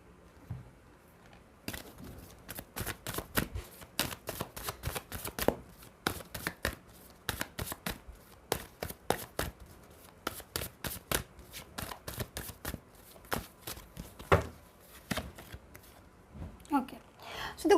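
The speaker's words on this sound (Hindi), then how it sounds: "दूसरा कार्ड लेना पड़ेगा।" Tarot cards shuffled by hand in a long run of rapid, crisp riffling flicks, steady rhythm broken by a brief pause before more shuffling and a card drawn near the end; close and clear, no talking.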